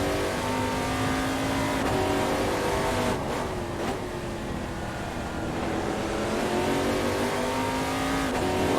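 A race car engine in a video game at Sveg Raceway holds a steady, loud drone, dips briefly as if easing off, then climbs back under full throttle, with faint tire noise.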